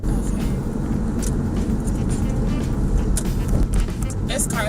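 A car on the road gives a continuous close rumble of engine and tyre noise, steady and fairly loud throughout with a few brief swells.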